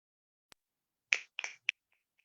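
Finger snapping from an audience at an open mic poetry night, a few crisp, close snaps in a loose cluster after a brief faint tick, then fading out.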